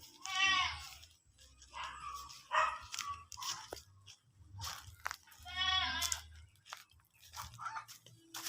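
Goats bleat near a pen at feeding time in a rural province setting, several wavering cries a few seconds apart, close and moderately loud, with rustling and chewing-like crunches and faint low background noise between them.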